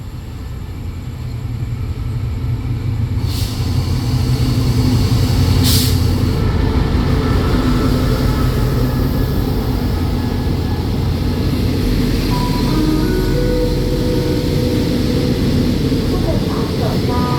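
Rapid train 169 rolls into Ban Pong station in Thailand and stops, a long steady low rumble of wheels and engine with a couple of sharp hissing bursts early on, while an announcer talks over it.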